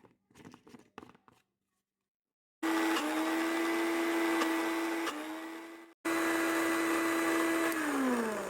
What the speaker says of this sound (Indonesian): Bumbu halusnya siap untuk di blender.